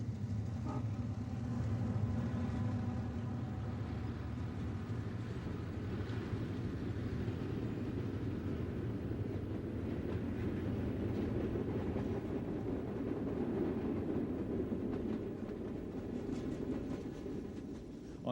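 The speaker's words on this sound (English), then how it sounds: "The premier train on the railroad is the Wabash Cannonball. Here we see it approaching Delray Junction." The Wabash Cannonball passenger train, with its open-ended observation car, approaches Delray Junction as a steady, loud rumble of wheels and rolling stock that holds for the whole stretch without any voices.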